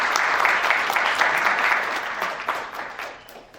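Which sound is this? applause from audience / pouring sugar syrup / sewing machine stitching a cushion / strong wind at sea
applause from audience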